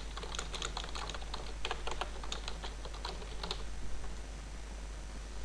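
Fingers tapping out a category name on a computer keyboard in a quiet room, a quick irregular run of crisp key clicks close to the mic with a steady low hum underneath and no talking.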